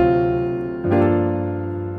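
Gospel piano plays a minor chord progression: a held, rich chord fades before a fresh chord is struck, its full voicing ringing out close and alone.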